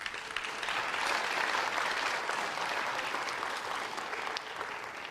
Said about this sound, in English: So please, ladies and gentlemen, a big round of applause for all of our partners.